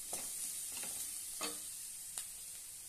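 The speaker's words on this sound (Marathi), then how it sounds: "मस्तपैकी परतून घेऊया।" Mashed potatoes are stir-fried in a pan, with a soft continuous sizzle broken by several distinct scraping strokes of a spatula, close by and without talk.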